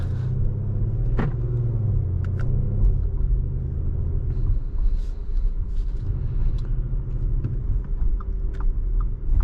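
Steady low road rumble and engine drone inside a 2023 Audi SQ5 Premium SUV on an evening drive, continuous and fairly loud, with a few faint clicks and cabin sounds on top.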